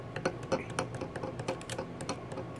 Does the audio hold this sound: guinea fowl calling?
no